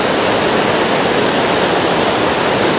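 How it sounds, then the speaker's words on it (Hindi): Artificial Kundal Shahi waterfall in Kutton Valley, Azad Kashmir, viewed from below: a loud, steady, broadband roar of falling water, continuous and unbroken with no voices over it. "ये है नीचे से वाटरफॉल का व्यू"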